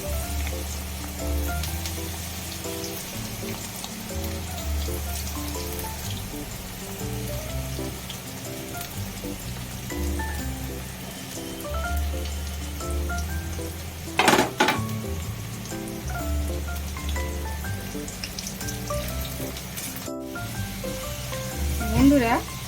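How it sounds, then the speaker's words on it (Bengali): Sliced onions frying in hot oil in a kadai for biryani, a steady dense sizzle with rhythmic background music and a few sharp utensil clatters, continuing throughout. "এবার এই পেঁয়াজের বেরেস্তাটা ভেজে নেব।"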